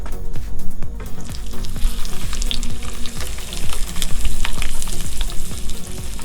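Masala-rubbed fish sizzles loudly in hot coconut oil, a dense crackling fry with repeated scraping, clattering strokes of a utensil stirring or turning the pieces, close up with no talking.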